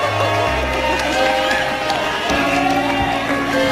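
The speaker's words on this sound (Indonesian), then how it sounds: "Sekali lagi tepuk tangan yang luar biasa" A studio audience on an Indonesian television talk show claps and cheers continuously, a loud, dense wash of applause filling the room as a guest arrives.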